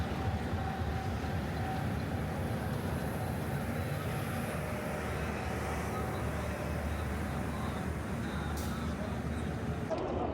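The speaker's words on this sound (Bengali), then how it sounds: "আমাদের ট্রেন চলে আসছে পনেরো মিনিট আগে" A train arriving at an Egyptian railway station gives a continuous low rumble and rolling clatter that stays steady and fairly distant throughout, with no speech over it.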